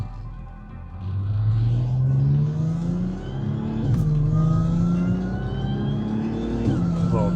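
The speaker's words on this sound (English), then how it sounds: "Supercharger sounds good." A supercharged Audi S4 with a custom 3-inch valved exhaust accelerates hard through the gears, its engine note climbing in rising sweeps with a short dip at a shift, close and loud.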